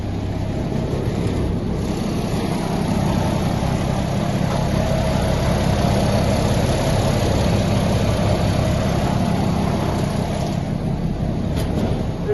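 A large Caterpillar diesel engine on an elderly air compressor drones steadily at idle, loud and close, with a constant low rumble and no pauses.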